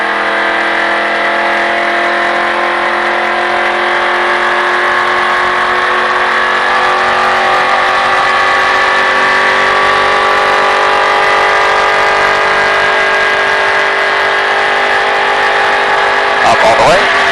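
Race car engine holding a steady, loud drone with layered harmonics through a corner, rising slightly on throttle near the end, close and continuous.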